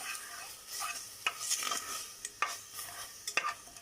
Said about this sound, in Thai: คั่วคั่ว ให้มันหอม ให้น้ำมันมันออกนะคะพี่น้องค่ะ